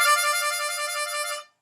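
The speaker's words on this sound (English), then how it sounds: "you need a C harmonica. So warbles sound like this." A steady, bright reedy warble on a C harmonica rapidly alternates between two adjacent notes. The trill sounds close and loud for just over a second before stopping abruptly into silence.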